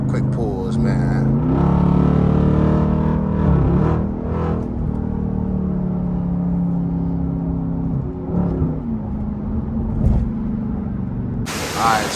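A Dodge Hellcat at a Chicago car meet, its engine held in a loud, steady rumbling idle with brief revs rising and falling over about twelve seconds, close to the microphone.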